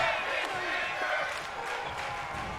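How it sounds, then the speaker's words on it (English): A wrestling crowd at a live MCW event chants together, a dense, roaring wall of massed voices filling the arena throughout. "What the fuck was the crowd just chanting?"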